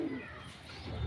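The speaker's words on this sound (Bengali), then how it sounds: "এই দেখো পাঞ্জাবি পায়রা এটা।" A Punjabi pigeon coos close by, a low soft throaty murmur rising at the start and end of the brief moment, with no other sounds over it.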